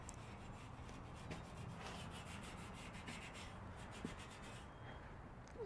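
A Jeep TJ Wrangler roof rack being roughed up by hand with sandpaper before painting, giving a steady, close abrasive rubbing with a few brief scraping strokes throughout.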